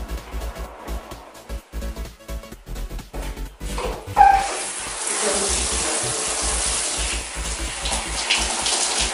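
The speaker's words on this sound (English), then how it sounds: "Just rinse it off with the warm water, and that's it." Warm water runs steadily from a tap while hair is rinsed, a continuous hiss that starts abruptly partway in after a few seconds of scattered knocks and a dog barking.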